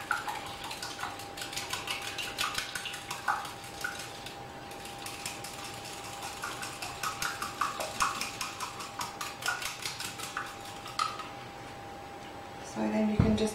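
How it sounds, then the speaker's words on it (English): Eggs with vanilla extract being whisked in a bowl, a rapid rhythmic clinking and tapping of the whisk against the side that runs steadily for several seconds before stopping. "I shall just whisk these together"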